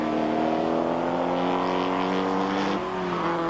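Identical Porsche 944 race cars from a 1986 Canadian one-make series battle on track, several engines droning together at steady high revs, one note shifting near the end as a car changes pitch passing by.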